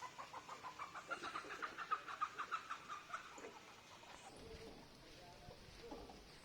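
A chicken on a farm clucks in a quick, rhythmic run of squawks while being chased, loud at first and then fading into quieter rustling and distant voices.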